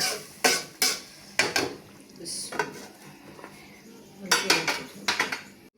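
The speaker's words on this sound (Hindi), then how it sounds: "साथ साथ इसको मैं चमचा भी चलाती जाऊंगी, हल्की आंच पे छोड़ दूँगी" A metal spoon scrapes and clinks against a cooking pot as moong dal is stirred on low heat, in a few sharp, separate strokes while someone speaks Hindi.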